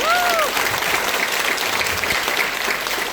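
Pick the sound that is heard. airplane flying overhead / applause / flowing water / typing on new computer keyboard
applause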